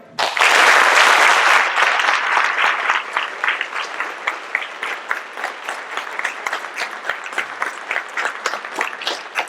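An audience at a high school Veterans Day ceremony breaks into applause, starting as a dense loud burst of clapping and thinning into scattered, uneven claps as it fades over several seconds.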